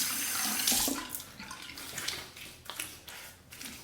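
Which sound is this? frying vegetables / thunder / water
water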